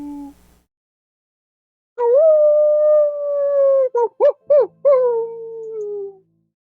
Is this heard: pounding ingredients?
no